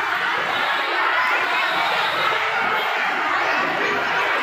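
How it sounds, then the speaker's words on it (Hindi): A growing crowd at a Vrindavan ashram gathering for a religious discourse, a steady, dense murmur of many voices chattering with occasional louder calls, filling the whole stretch without a clear single speaker. "जैसा कि आप लोग देख सकते हैं धीरे धीरे कितना भीड़ बढ़ रहा है।"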